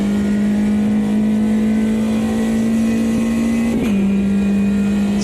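Race car in the AMS2 racing game holding a steady, loud high engine drone under full throttle, with a brief dip and gear change near the end before the tone continues.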